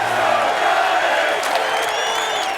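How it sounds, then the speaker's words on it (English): New York Giants fans cheer in a stadium during the 2007 season, a loud, continuous roar of crowd noise with whoops and shouts rising near the end. "Giant fans are starting to cheer."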